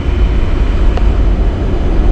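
A Genesis sedan converted to run on LPG gives off a steady high-pitched whine as its fuel system prepares to start, with the engine still off, over a constant low hum.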